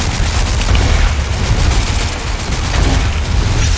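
Gunfire in the Watch Dogs: Legion Spider-Bot arena video game, a dense, loud barrage of rapid shots and booms blending into a continuous roar across the whole stretch.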